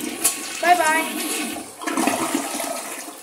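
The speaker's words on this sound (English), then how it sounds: "now the grapes are in the bowl, time to flush" A toilet flushes grapes down the bowl, a rushing swirl of water that rises and continues steadily, with a voice speaking briefly over it.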